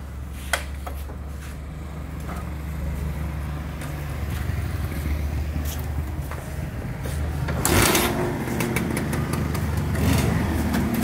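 A Suzuki Satria 200 motorcycle engine idles steadily up close, its low throbbing hum continuous throughout, with a brief louder surge and rattle near the end and a few light clicks.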